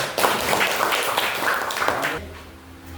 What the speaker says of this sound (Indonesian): Kasih tepuk tangan kelompok 5.